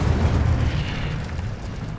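Incendio fire spell cast in a Harry Potter video game, a loud rumbling whoosh of flame that swells and holds steadily for about two seconds with deep low-end roar and no speech.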